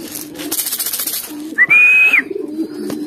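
Racing pigeons coo in a loft, low throaty rhythmic cooing close by, broken by a brief high whistle-like tone in the middle.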